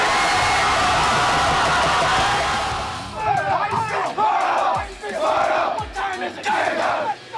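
At a high school football game in Canton, a crowd roars in a sustained, loud mass of cheering, then breaks into rhythmic chanted bursts with yells.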